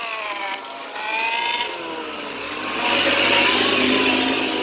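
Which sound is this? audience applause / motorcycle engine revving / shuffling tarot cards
motorcycle engine revving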